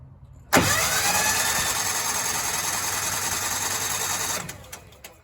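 The engine of a Miller Bobcat 225 welder cranks over during a compression test, a loud, steady, fast churning whir that starts abruptly and runs for about four seconds before cutting off.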